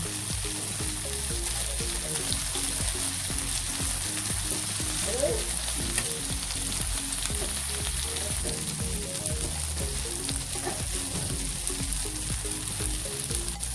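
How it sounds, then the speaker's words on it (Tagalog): Pork liver frying in a pan: a steady, even sizzle carries on throughout, with faint background music playing underneath. "malapit nang uh, ma-fry lahat ang ating pork liver"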